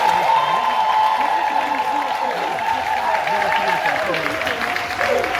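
Audience applause fills a theater after a choir concert, a dense steady wash of clapping and crowd noise with voices talking over it throughout.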